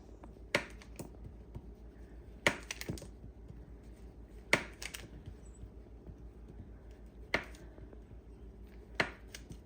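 A knife taps sharply against a cutting board as butter is cut into little cubes for a cherry pie crust, five or six crisp separate knocks spread a couple of seconds apart, quiet room, no speech.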